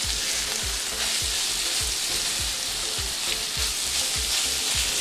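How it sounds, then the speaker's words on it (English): Pork frying over maximum heat for Thai holy basil stir fry, a loud steady sizzle with a regular rhythmic scrape of stirring about twice a second, close and continuous with no voices. "So you want to put it on a high heat and cook the pork."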